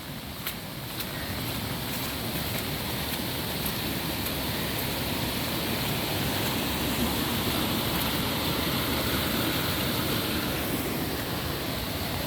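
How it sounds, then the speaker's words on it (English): A waterfall swollen by flood rain pours down a hillside in Douglas County, Oregon, as a loud, steady, broadband roar with no breaks, continuous throughout and without voices. "My waterfall got bigger with the rain."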